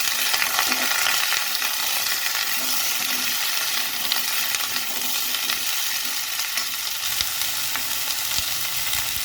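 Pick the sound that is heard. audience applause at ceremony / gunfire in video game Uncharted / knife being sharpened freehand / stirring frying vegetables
stirring frying vegetables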